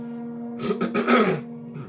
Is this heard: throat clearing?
yes